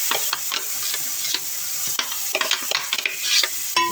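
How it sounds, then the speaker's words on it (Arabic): Chopped onions tossed into hot oil with garlic and peppers for Egyptian koshari, a steady close sizzle broken by repeated scraping stir strokes throughout. "هننزل بالبصل على الثوم على الفلفل."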